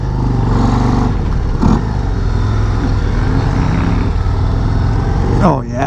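A 2024 Harley-Davidson CVO Road Glide ST ridden on a race track, a loud continuous engine drone with rising and falling rev tones, heard close under a rider talking throughout.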